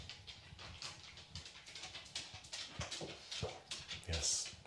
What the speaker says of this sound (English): I think the Basset Hound's coming